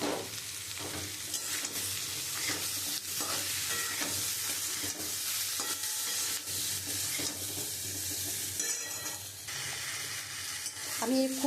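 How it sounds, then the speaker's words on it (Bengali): Ground spices for a Bengali fish curry with papaya and potato are stir-fried in a pan, a steady close sizzle with a spatula scraping and stirring throughout. "আমি খুব ভালো করে মশলা দিয়ে কষিয়ে নিয়েছি"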